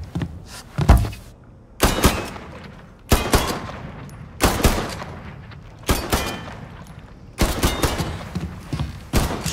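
Gunfire in the Mafia III video game comes as repeated sharp bursts of shots, clustered in rapid volleys with short gaps between them, loud and close.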